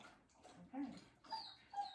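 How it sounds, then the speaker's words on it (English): Faint whimpers and short yips from a dog in a home kitchen while someone bakes, three quiet whining bursts in quick succession. "Pardon the dog, he's too loud."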